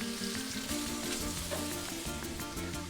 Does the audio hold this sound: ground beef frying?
yes